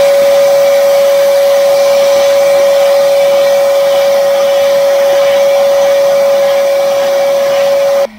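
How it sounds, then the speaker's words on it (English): Vacuum cleaner with hose sucking dust and ash out of a Harman pellet stove, a loud steady whining roar held for about eight seconds before cutting off. "we're gonna stick the vacuum with the hose in there and try to suck up what we can"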